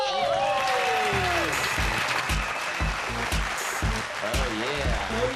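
A studio audience at a televised music variety show applauds to welcome a solo, with the clapping mixed under a presenter's voice and music.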